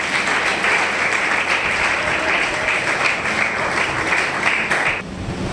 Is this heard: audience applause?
yes